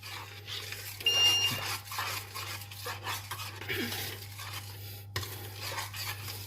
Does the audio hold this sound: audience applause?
no